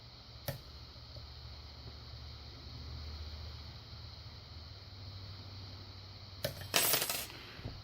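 A metal tension wrench falls off a padlock during lock picking and lands with a sharp clatter near the end, after a faint tick early on, over quiet room hiss.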